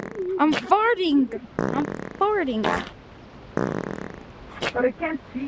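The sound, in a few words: voice imitating a fart in a video game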